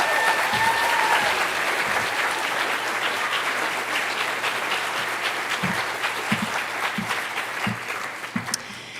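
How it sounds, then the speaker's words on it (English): A middle school spring concert audience gives a strong, sustained round of applause. The dense clapping fills the room and then thins toward the end, with a few louder individual claps. "I want to have us give Gabby a quick round of applause"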